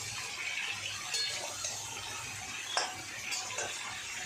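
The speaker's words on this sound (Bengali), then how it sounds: "ঝিঙেটাকে আমি অল্প নাড়াচাড়া করব" Ridge gourd being stirred in a pan for a poppy-seed dish, giving soft scraping and clinking of a utensil against the pan with a faint sizzle, a few sharper knocks standing out across the steady background.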